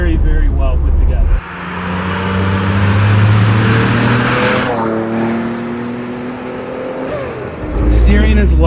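A Noble M12 GTO 3R sports car drives hard, its engine droning loudly and steadily up close while gravel and pebbles patter against the tub, with someone talking over it.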